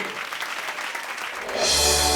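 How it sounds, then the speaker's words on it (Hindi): Audience applause for a stage performer in a courtroom drama, steady clapping that swells sharply louder near the end, joined by a bright broadband wash. "ये जोरदार तालियां इस हमारे कलाकार के लिए।"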